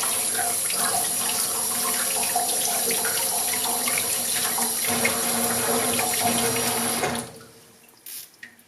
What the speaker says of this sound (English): use some lukewarm water. Just rinse the watch off first.